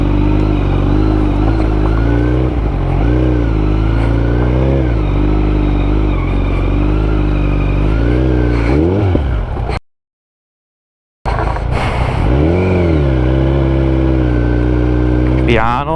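A motorcycle climbs a road of hairpin bends, its engine droning loud and close and rising and falling in pitch as it revs through the turns, with a rider talking over it and a brief silent gap.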